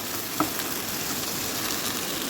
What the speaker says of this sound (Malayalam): വെച്ചിരിക്കുന്ന ഉരുളക്കിഴങ്ങ് ഇതിലേക്ക് ഇട്ട് കൊടുക്കാം. നല്ലോണം ഒന്ന് മിക്സാക്കി കൊടുക്കാം കേട്ടോ. നല്ലോണം ആ എണ്ണയിലൊന്ന് ഇതാവട്ടെ.